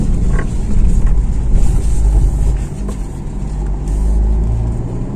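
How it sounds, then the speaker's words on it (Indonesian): Suzuki Ignis GX manual hatchback from 2021 climbing a steep uphill road, its engine a steady low drone with road rumble, loud and close throughout without any talk. "oke teman-teman kita coba mobil Ignisnya ke atas"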